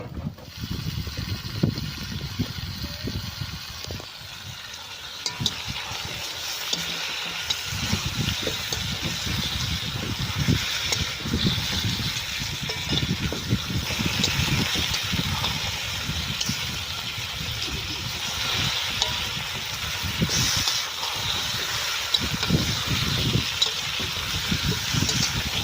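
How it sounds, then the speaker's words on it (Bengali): Chicken sizzles and fries steadily in a pan with chicken masala and garam masala in a village kitchen, a continuous loud crackle with stirring noises throughout. "এবার চিকেনটা ঢেলে দেবো।"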